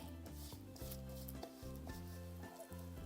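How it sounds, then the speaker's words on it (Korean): Seasoning paste mixed by hand into eggplant kimchi, soft close wet rubbing and squelching, gentle and continuous, with a faint musical backing underneath. "먼저 이렇게 살금살금 가볍게 묻혀주세요"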